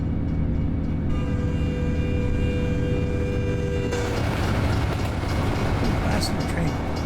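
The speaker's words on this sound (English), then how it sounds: "Passenger train." A passenger train rolls past in the American Truck Simulator driving game, a loud, steady rumbling roar with faint clattering, blending with truck engine noise for the whole stretch.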